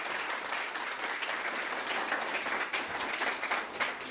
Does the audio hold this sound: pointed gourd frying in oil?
no